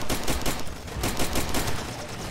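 Rapid overlapping shotgun blasts ring out in a firefight in the video game Far Cry 2, loud, close and densely clustered over a couple of seconds.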